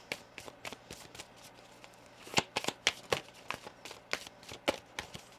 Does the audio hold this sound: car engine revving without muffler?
no